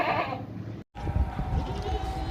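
A goat at a livestock market gives a short bleat, pauses briefly, then cries again more loudly and harshly, close by amid crowd noise.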